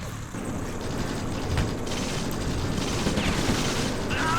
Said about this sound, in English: we've got some heavy fire on that position there